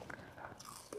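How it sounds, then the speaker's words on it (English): Fresh homegrown garden sugar cane is bitten and chewed up close, a quick faint crunch followed by short wet chewing sounds. "Let's try to taste my first piece of sugar cane, grown for the very first time in my own garden"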